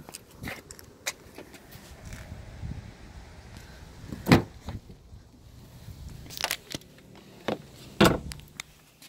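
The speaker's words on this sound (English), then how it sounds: "One solid vehicle, right down to the sound of the door shutting." Doors on a 2019 Honda CR-V LX thump shut in a series of solid, close knocks, with two heavier slams standing out among lighter handling clatter and rustling.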